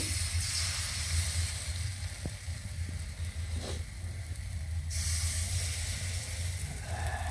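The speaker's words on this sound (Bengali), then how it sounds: "এটা বড়ার মতো করে বাজলাম অল্প তেল দিয়ে।" Pitha frying in a little oil like bora fritters, a steady close sizzle and hiss that runs unbroken, with a few faint clinks over it.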